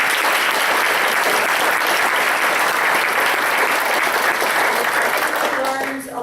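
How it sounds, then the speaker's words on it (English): A large audience applauds speakers at a case-study presentation session. The applause is dense, loud and sustained throughout, fading slightly at the very end. "I want to take a moment first to give a big round of applause to all of our speakers."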